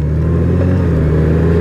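A motorcycle engine runs loud and close on a ride, holding a steady, throbbing drone with a slight rise in pitch, and no voices over it.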